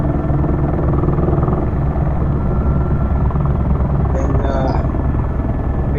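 Eurocopter AS350 Ecureuil helicopter on a landing approach, its steady loud rotor and turbine drone filling the whole stretch, with a voice talking underneath.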